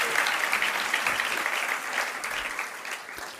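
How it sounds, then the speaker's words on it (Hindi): Dense applause from an audience gathered for a Jain religious discourse, a steady patter of many hands that holds for a few seconds and tapers slightly toward the end, with no voices over it. "तालियां धीरे धीरे बढ़ रही है"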